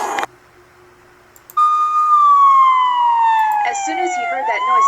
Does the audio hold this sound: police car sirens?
yes